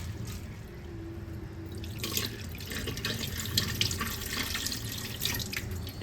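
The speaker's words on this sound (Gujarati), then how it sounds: "ઘસીને ધોઈ નાખવાનું 4-5 પાણી ચોખ્ખું થાય ને ત્યાં સુધી." Running tap water splashes over lentils and rice being rubbed and rinsed for khichdi, a steady gush with wet swishing and dripping that grows busier partway through.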